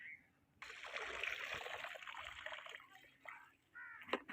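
Liquid leaf compost pours and splashes into a drum in a steady continuous gush for several seconds, then tapers to smaller trickles and splashes near the end.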